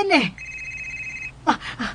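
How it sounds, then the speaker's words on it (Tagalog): A cellphone rings with a sustained electronic tone lasting about a second, framed by voices talking close by before and after it. "may bagting nga akong cellphone"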